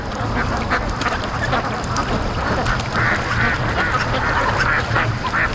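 Ducks quack in a busy, overlapping chorus on a lake on an echoing morning, with geese among them, a steady, fairly loud flock sound with no talking.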